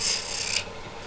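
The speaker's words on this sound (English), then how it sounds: "as you rub the bevel of the tool on the Tagua nut, you can see how shiny the burnishing goes too" Metal tool bevel rubbed firmly against a tagua nut to burnish it, a close, steady raspy scraping that is brighter and louder at first, then settles into a duller continuous rub.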